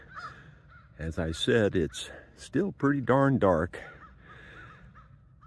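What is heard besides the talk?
crows cawing near a pond at dawn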